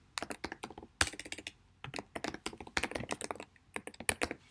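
Rapid typing on a computer keyboard, close and crisp, with bursts of clicky keystrokes separated by short pauses, no talking.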